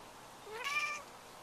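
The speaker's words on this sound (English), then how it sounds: "Do you ever purr, Min?" A single short cat meow, rising then falling, close by and fairly quiet over faint background hiss.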